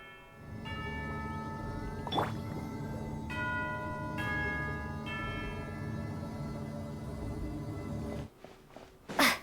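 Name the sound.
bell ringing in the video game Genshin Impact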